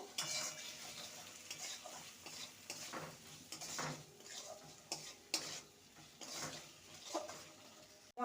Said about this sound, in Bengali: লবণ দিয়ে আরও দু মিনিট নেড়ে নেবো